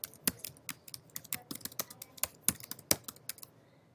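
Fingers typing an artboard name on a computer keyboard, a quiet close run of irregular key clicks with a few sharper, louder strikes, no voices.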